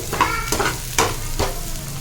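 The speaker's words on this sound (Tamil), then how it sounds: "நமக்கு பாஸ்தா கொஞ்சம் எண்ணெயிலே வதங்கட்டும்" Pasta sautéing in oil in a pan for masala pasta, a close sizzle with about four sharp stirring scrapes spaced roughly half a second apart, no talking.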